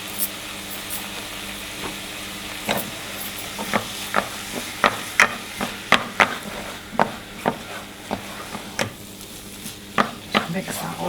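Tomato puree is stirred into chicken curry in a pan, with a spoon scraping in an uneven rhythm over a steady, close sizzle.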